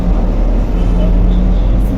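Cabin of a moving Casabus city bus on line 64 in Casablanca, with a loud steady low engine drone and road rumble filling the space throughout.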